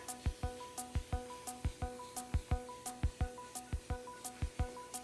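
A handheld spritzer bottle mists water onto seedling soil in a garden, giving a steady run of quick, soft spray bursts about twice a second over a quiet tonal hum.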